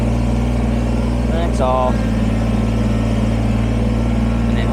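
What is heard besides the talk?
Kubota BX23S sub compact tractor engine while back blading dirt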